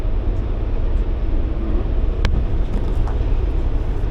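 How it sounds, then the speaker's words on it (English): A train passing on tracks right beside a campsite near Lake Louise in the Canadian Rockies: a loud, continuous low rumble and roar that holds steady throughout, with a brief sharp metallic clank partway through. "We're very close to a train track here."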